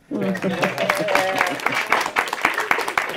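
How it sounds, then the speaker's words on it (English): An audience claps in a steady patter of overlapping hand claps, with voices talking over the start before the clapping carries on alone. "Yeah, clap, clap."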